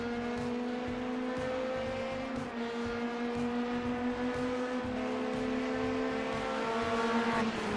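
Race cars at Watkins Glen during a six-hour race, a sustained engine drone with steady, slowly shifting pitch as a car passes a Corvette, heard at moderate, fairly distant level with no speech.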